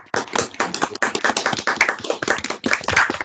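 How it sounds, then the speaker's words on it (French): Webinar participants applauding with their microphones switched on, several overlapping sets of hands clapping close to the mics in dense, uneven bursts, loud and without talk. "il pourra entendre les applaudissements."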